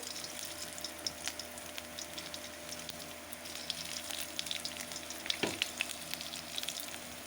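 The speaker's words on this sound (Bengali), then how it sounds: "এখানে ফাঁক করে অল্প ঘি দিয়ে দিয়েছি। এখন দিয়ে দেবো তার মধ্যে 5 ফোড়ন" Panch phoron spices crackling in a little hot ghee for a wedding-style vegetable dal, a steady low sizzle with scattered tiny pops and one sharper burst near the end, no voices.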